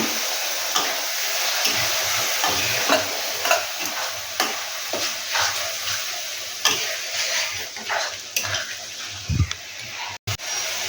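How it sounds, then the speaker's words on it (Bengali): Spice masala paste sizzles in a pan while being stirred, with a continuous frying hiss, repeated scraping strokes of the spoon, and a few knocks against the pan, all close and loud. "মশলাটা ভালো করে কষে নেব।"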